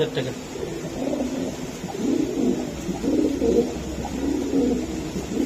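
Soft, rhythmic cooing of racing pigeons repeats throughout, low and close, with voices talking intermittently over it.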